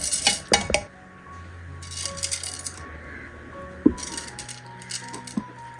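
Ingredients for a breakfast dish are dropped into a mixer grinder jar, giving sharp metallic clinks, rattles and a spoon tapping against steel, with quiet gaps between the bursts.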